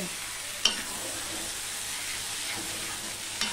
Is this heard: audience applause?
no